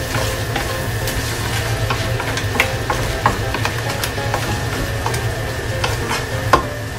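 Garlic seafood in butter stirred in a pan, with a steady sizzle and frying hiss under scattered clinks and scrapes of a utensil against the pan.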